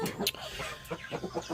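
Wyandotte roosters cluck in short, uneven bursts nearby, with some scuffling and faint background noise between the calls.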